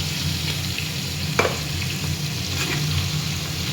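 Eggplant paste frying in a pan, a dense steady sizzle heard up close, with one brief scrape of a utensil partway through.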